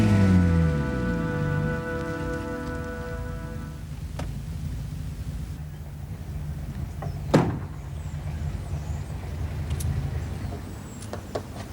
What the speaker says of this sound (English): We're just going to sit there and let it rain on you.